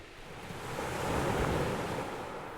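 Ocean surf rolls onto a shore as a steady broadband wash, swelling toward the middle and easing off again, with a faint breath of wind and no voices.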